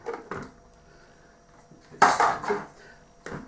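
Dry macaroni tipped onto minced meat in a bowl for a Stokenchurch pie, a few close clattering knocks and a louder rattling burst midway, with no talk.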